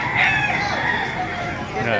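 Chickens cluck and a rooster crows at a busy, noisy poultry market in Baliuag, Bulacan, with people talking in the background.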